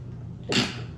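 A single short, breathy sneeze bursts out once over low room noise, fairly close.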